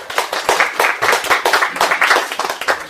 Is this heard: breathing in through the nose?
no